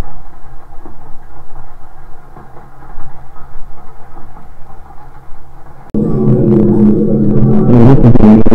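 Steady low rumble of a train interior, with a louder surge of mechanical noise and rattling joining in partway through; no voices.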